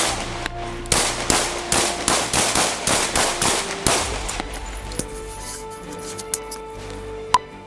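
A rapid volley of about a dozen loud gunshots fired during a police encounter caught on a dashcam, followed by several scattered, fainter shots and a final sharp report.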